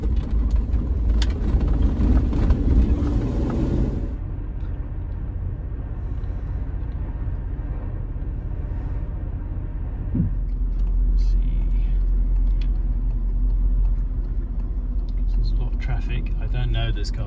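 A Range Rover Vogue SE Classic drives along, its engine giving a continuous low rumble that shifts after a few seconds and carries on steadily, with someone talking over it.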